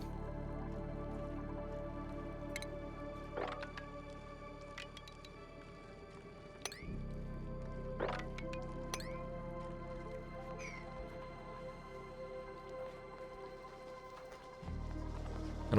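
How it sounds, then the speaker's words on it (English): Water dripping in Oxygen Not Included: sparse, soft plinks and squishy drops at irregular intervals over a low steady hum, faint and unhurried. "So put all this water over here that's dripping down."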